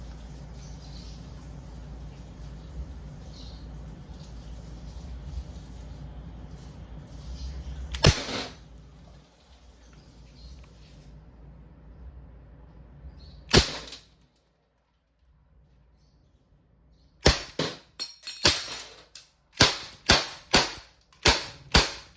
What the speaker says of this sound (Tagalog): testing Glock 19 Gen 3 non-blowback pistol. Firing.